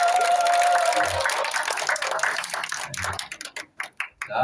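Applause from a lecture audience, a brief burst of clapping from a small group that starts dense and thins into a few scattered, separate claps before it stops.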